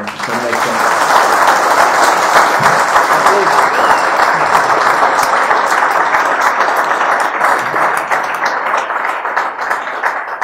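A training-week audience gives panelists a sustained round of applause, loud, dense and steady for about ten seconds, with a slight thinning near the end.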